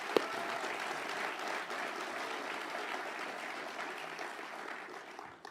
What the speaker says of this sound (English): Let's give our employees a round of applause.